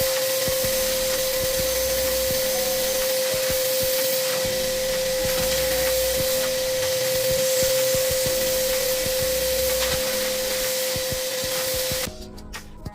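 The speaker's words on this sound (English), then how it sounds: "We are using the blower function of this vacuum to blow away the loose particles inside the filter." A vacuum's blower function blows air through a 2020 Ford Territory engine air intake filter, a steady, loud rush with a constant whine, running unbroken for several seconds before cutting off near the end.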